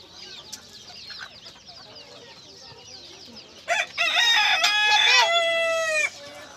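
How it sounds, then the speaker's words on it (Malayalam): Chickens and chicks on a farm in Dubai's Sustainable City cluck softly at first, then a rooster nearby gives a loud, drawn-out crow lasting about two seconds. "കോഴിക്കുട്ടികളൊക്കെ ഉണ്ട് ഇവിടെ നിറച്ച്."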